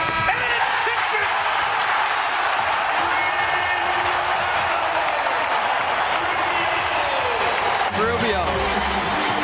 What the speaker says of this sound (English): he deserves every bit of this ovation that he's getting from this Utah crowd